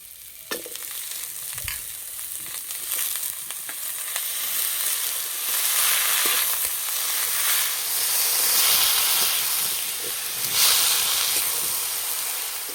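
Pumpkin greens go into a pan of spiced potatoes and sizzle, giving a steady frying hiss that swells and settles with a few soft stirring knocks, close and continuous with no talk.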